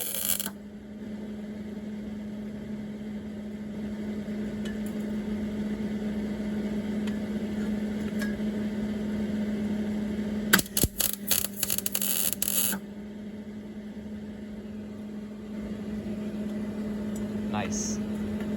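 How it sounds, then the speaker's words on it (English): Welding a muffler delete pipe onto a 2004 Saturn Ion: a single burst of harsh, crackling arc noise lasts about two seconds, set against a steady low hum that runs throughout. "Now comes the actual welding."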